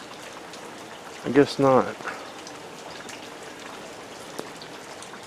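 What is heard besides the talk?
light rain shower at night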